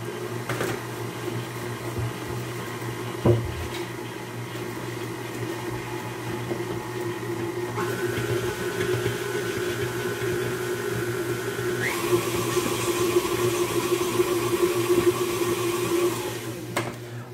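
An electric mixer whirs steadily as it blends hot milk cake batter with two cups of all-purpose flour, a close continuous motor drone that steps up in pitch twice as the speed is raised.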